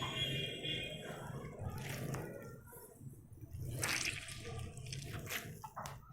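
Wet squishing and dripping as water is wrung out of grated raw mango by hand, with splashy trickles and soft squelches over a few seconds, close up.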